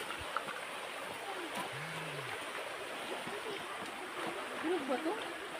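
A mountain river in Camarines Norte flows steadily in broadband noise, with faint splashes and distant voices over it.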